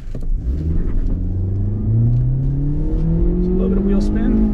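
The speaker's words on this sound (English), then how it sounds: "So a little bit of wheel spin." A 2022 Hyundai Elantra SEL pulls away from a full stop in sport mode with slight wheel spin, the engine droning steadily higher through the gear, heard from inside the cabin, loud and continuous.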